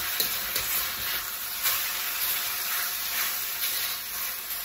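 Pad see ew noodles stir-fried in a hot wok, a loud steady sizzle and hiss with soft scraping strokes of a spatula across the wok bottom, close up and continuous, with no voices.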